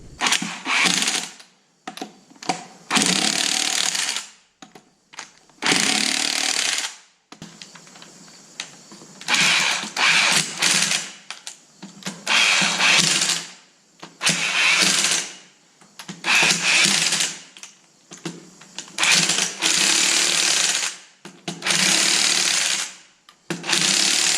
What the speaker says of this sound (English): Let me bolt the tires back on.